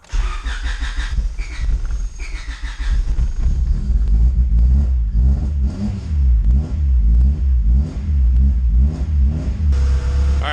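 A turbocharged Honda Type R EK engine revs loudly and close, rough and rumbling as it struggles on a cold start, with repeated throttle blips rising and falling over a deep idle.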